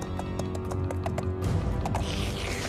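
Horse hooves clip-clop in a steady, close rhythm over a dense background of music or ambience, with no speech.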